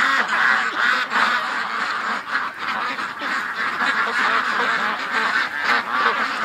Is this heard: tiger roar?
no